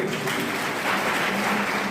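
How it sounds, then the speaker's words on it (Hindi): An audience at an education policy workshop claps: a steady wash of applause lasting the whole two seconds, with no talk over it. "बजा दो कुछ के लिए ताली कर"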